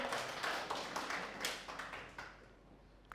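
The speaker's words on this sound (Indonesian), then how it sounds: "Kasih tepuk tangan buat Kohari ya" Church congregation applauding a volunteer after a sermon demonstration, a dense patter of clapping that starts full and gradually thins and fades over a few seconds, with no voices over it.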